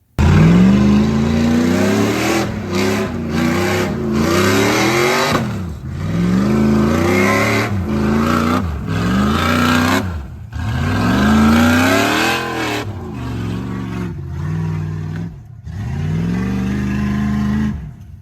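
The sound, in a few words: Ford Bronco off-road truck driving full throttle in mud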